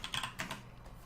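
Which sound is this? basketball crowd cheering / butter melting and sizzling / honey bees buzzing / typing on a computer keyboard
typing on a computer keyboard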